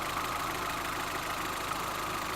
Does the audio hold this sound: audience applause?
no